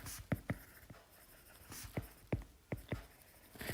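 Marker or chalk writing on a board during a chemistry lesson on acids, bases and salts, with a series of quick, close scratchy strokes in irregular bursts.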